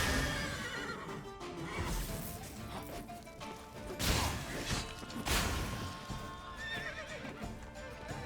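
Roach the horse in The Witcher 3: Blood and Wine neighs and whinnies over clip-clopping hooves, with a couple of louder crashing hits amid busy game sound.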